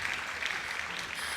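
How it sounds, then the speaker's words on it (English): Audience applause for a speaker at a fashion-weekend masterclass in Nigeria, a steady, dense patter of clapping heard briefly and at moderate level throughout, without voices. "please let's give a big round of applause to our speaker today"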